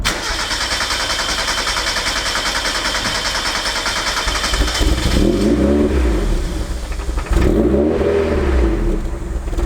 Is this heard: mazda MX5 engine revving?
yes